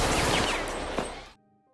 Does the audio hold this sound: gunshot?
yes